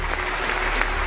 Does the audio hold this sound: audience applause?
yes